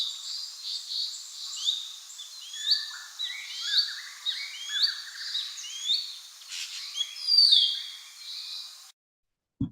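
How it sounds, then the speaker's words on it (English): A chorus of many small birds calling at once, high chirps and twitters overlapping continuously, fairly close, ending abruptly in silence. "this is a flock recording, and a lot of birds are simultaneously calling together"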